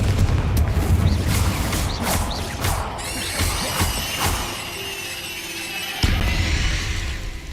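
A Confringo fire spell bursts in Hogwarts Legacy inside a dark tomb, a series of loud booming blasts and crackling impacts, with a sharp renewed burst near the end, all sounding fairly close.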